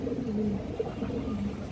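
A domestic pigeon at a market stall coos softly in short, low, repeated notes, fairly faint against background murmur.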